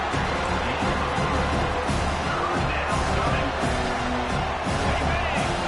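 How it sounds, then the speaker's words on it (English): A stadium crowd at a Penn State vs Notre Dame college football game roars steadily on a third-down defensive stand, a dense, constant wall of cheering and noise throughout. "Decibels rising as the crowd gets behind this defense on 3rd down."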